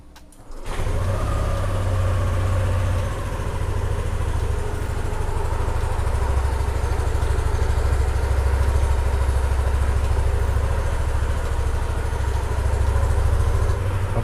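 A 2020 Yamaha NMAX scooter engine catches after a brief start and settles into a steady, close, loud idle with a low throbbing hum that holds for the remainder, no voices over it.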